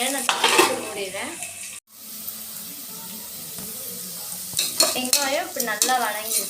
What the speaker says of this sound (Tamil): வெங்காயம் இப்படி நல்லா வதங்கிடுச்சு.